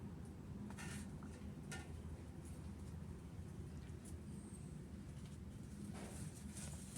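Chopped bottle gourd simmering in a pot in an Indian village kitchen, a steady low bubbling rumble throughout with occasional faint clinks, no talk.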